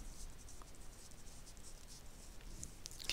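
A pen scratches faintly across a folded paper flap, a soft, quiet scribbling close by with small taps near the end.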